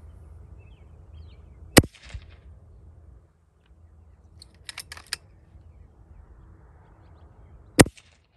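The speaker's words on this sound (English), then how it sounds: "You'll hear the gun going off." An FX air rifle with a power block fires .22 Javelin slugs at long range outdoors, giving two sharp, loud cracks spaced several seconds apart, with faint distant clicks between and quiet background.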